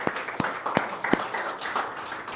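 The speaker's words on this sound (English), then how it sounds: "give our volunteers a big round of applause real quick" Sparse clapping from an audience for volunteers, a handful of distinct claps in an uneven rhythm, moderately close and fairly thin rather than a full ovation.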